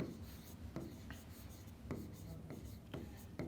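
Chalk or marker writing on a board during a genetics lesson, a quiet run of scratchy strokes and taps at an irregular rhythm, close and faint.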